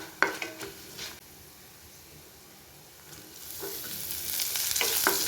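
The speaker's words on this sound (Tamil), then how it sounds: "எல்லாத்தையும் நல்லா வறுத்து எடுத்துக்கலாம்" Spices frying with dry red chilli and curry leaves in a pan for spicy mutton chukka, with soft sizzling, a few stirring scrapes and rising crackle toward the end.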